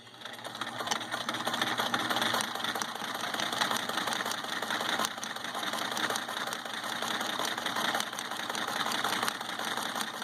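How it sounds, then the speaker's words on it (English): An old sewing machine stitching in reverse runs continuously with a fast, rattling mechanical chatter, close and steady for the whole stretch. "now my sewing machine will probably go nuts"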